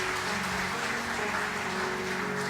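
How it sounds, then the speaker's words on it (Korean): Applause for a church choir after a Sunday worship service, a soft, steady wash of clapping from the congregation heard at a distance throughout. "찬양으로 섬겨주신 시온 찬양대를 위해서도 박수 한번 해주시겠습니다"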